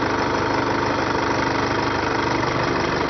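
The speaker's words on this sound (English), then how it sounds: "You can see the engine is vibrating, which shows that it is burning well." A Toyota Hilux engine with an electronic injection system runs steadily at idle, a loud, continuous mid-pitched drone with constant vibration and no talk over it.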